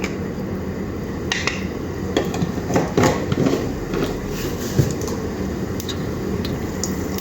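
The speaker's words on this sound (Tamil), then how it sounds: "கடுகு பொரியுது." Mustard seeds spluttering and popping in hot oil in a home kitchen pan for a green chicken gravy, a steady crackling sizzle with scattered sharp pops throughout, close up and with no talking.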